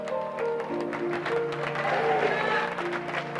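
A church congregation applauds in a sustained, moderately loud wash of clapping that rises slightly midway, with a voice and some musical tones underneath.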